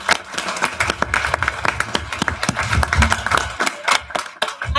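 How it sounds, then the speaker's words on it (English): A room full of people claps for a retiring board member at a board of education meeting, a steady dense patter of many hands sustained throughout, with some faint voices mixed in. "So we want to applaud you also."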